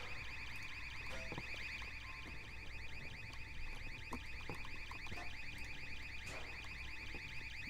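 Rapid electronic beeping in the video game Half-Life 2 keeps on relentlessly, a bright warbling pulse that never stops, with a few scattered clicks and thuds of gameplay underneath.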